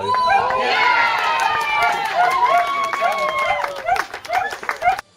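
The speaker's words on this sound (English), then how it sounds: "the crowd and the dog go wild" Spectators at an amateur Sunday League football match cheer and shout loudly after a goal, with rising voices that break into scattered claps and calls as the noise fades.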